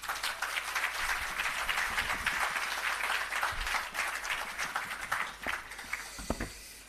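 An audience applauds at the opening of the Parnassus Agro Park in Jamaica, a steady wash of many hands clapping at moderate distance that carries on throughout and thins toward the end.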